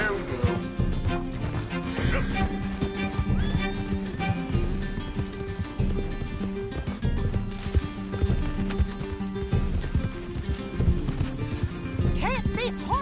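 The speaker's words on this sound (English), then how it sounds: "Can't this horse go any faster?" Galloping horse hooves in a video game chase, fast rhythmic hoofbeats with crashes and clattering under a loud music score, the horse pushed hard throughout with no talk in the clip.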